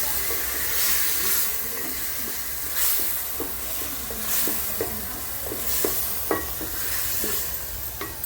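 Rice being stirred and mixed with gravy in a large cooking pot for a wedding feast, with repeated scraping strokes over a steady sizzle and hiss of steam, no voices.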